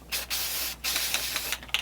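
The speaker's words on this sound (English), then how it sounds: "We're basically going to spray and then wipe away." Spray paint is hissed onto a snowman head Christmas ornament in several close, loud bursts, each lasting about half a second with brief pauses between them.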